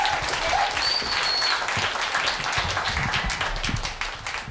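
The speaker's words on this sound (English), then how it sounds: "Keep that applause going, ladies and gentlemen." A comedy club audience at Yuk Yuk's in Vancouver claps and cheers, a dense, loud wash of applause with a few whistles, easing slightly toward the end.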